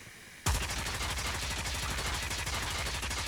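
Automatic gunfire from a weapon in the mobile shooter Call of Duty Mobile: after a brief quiet start, a loud, dense, unbroken burst of rapid shots continues to the end.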